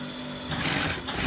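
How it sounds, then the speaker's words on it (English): A sewing machine stitches a shirt collar on a buttoned-down shirt, its motor whirring steadily close up and swelling louder partway through the short run. "So you're sewing down to meet up to the other part."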